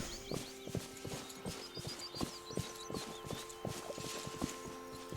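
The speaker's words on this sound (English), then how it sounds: "gotta feed the horses" Horse hooves clip-clop steadily in Disney Dreamlight Valley, a regular train of crisp, close hoofbeats over a soft musical bed with light chiming tones.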